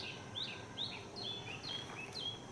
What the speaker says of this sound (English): Birds, they are chirping on trees.